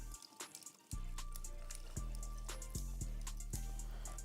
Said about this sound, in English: So we got some ice in here in the shaker. We're gonna do about 4 ounces of the sports drink.